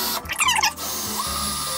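Power drill boring a hole through the metal side panel of a microwave oven, a short whining burst of drilling that stops, leaving a steady hum behind.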